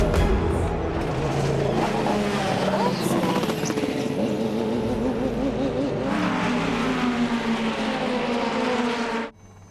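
A BMW M race car on track roars in a loud, steady engine drone that shifts pitch partway through, then cuts off abruptly at the end, with voices over the engine noise.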